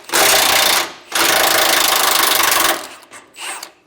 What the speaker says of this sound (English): Now we'll take that 18mm socket, and we will pop off this front bolt here on our D-shaped bracket.